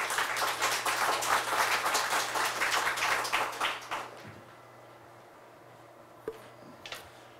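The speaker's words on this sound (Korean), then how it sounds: "박수로 맞이해 주시기 바랍니다." Seminar audience at a university bio-defense strategy event applauding to welcome a speaker, a full round of clapping for about four seconds that fades out, followed by near silence with a few faint bumps.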